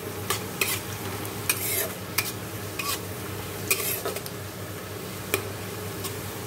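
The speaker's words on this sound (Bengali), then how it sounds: "পেঁয়াজ ভাজা হচ্ছে।" Onions fry in a pan with a steady, soft sizzle throughout, punctuated by repeated sharp scrapes and taps of a utensil stirring against the metal.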